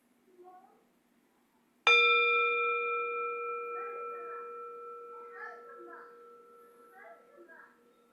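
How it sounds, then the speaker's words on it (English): A single meditation bell is struck once, ringing out with a clear, sustained tone that slowly decays over several seconds while faint voices murmur in the background. "listen to a sound of the bell"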